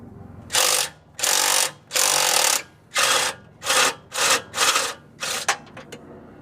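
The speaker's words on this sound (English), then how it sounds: "what I'm using right here is a 3/8 impact wrench, a swivel 14mm socket, and an extension. And I'm going to try to break them loose" A 3/8 impact wrench with a 14mm swivel socket and extension hammers at bolts on an Infiniti G35 exhaust, about eight loud close bursts of rattling impacts separated by short pauses, the last few quicker and shorter.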